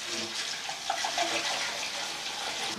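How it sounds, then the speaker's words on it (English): Water pours steadily into a car engine in a continuous rushing splash, with a few faint gurgles partway through. "I better put some water in as well."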